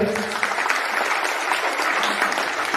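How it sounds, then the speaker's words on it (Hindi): A church congregation claps in praise during a Hindi worship gathering, steady dense applause filling the room throughout, with faint voices mixed in. "ताली बजाते यीशु की तारीफ करें"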